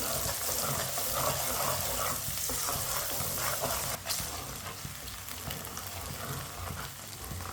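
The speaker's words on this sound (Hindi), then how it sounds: "प्याज को हल्का सा ब्राउन कर लेंगे।" Onions frying in oil in a pan for a vegetable sabzi, a steady, close sizzle that runs throughout and eases off slightly partway through, with no talking.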